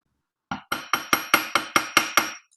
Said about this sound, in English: so I'm hammering along this edge